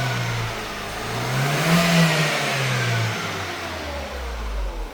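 A Renault Megane 1.2 TCe petrol engine that burns about a litre of oil per 100 km runs close up, its note swelling as it revs once and then settling back to a steady rumble.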